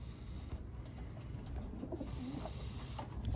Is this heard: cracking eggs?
no